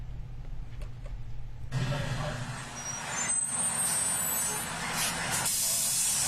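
A fire truck pulls up with a loud burst of air-brake hiss and engine rumble, captured on a police officer's body-worn camera; the broadband hiss swells and stays steady for several seconds.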